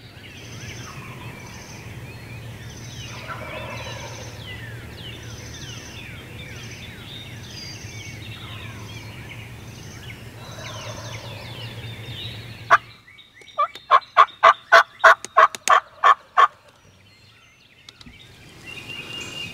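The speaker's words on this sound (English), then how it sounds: "They've gobbled incredible on the roost this morning." Wild turkeys gobble from the roost at dawn during a spring hunt in Nebraska, a run of loud, close gobbles in quick succession following a long stretch of softer birdsong and distant calling.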